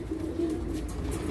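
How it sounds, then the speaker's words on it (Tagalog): Pigeons being fed coo continuously close by, a low steady warbling with soft fluttering and ambient rustle, no voices. "So, ito nagpapakain kami ng mga ibon."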